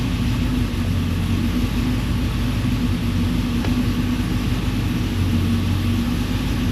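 A Pontiac Trans Am WS6 V8 idles with a steady, low, throaty rumble, loud and continuous with a slight lope, and no voices.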